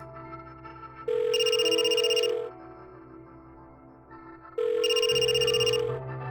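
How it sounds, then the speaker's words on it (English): Telephone ringing while placing a call in the video game The Blackwell Deception, two loud electronic ring bursts about three seconds apart over a steady low background tone. "So we call Jeremy."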